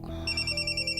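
A phone rings with a bright, repeating electronic ringtone, close and clear over a low hum, no voices.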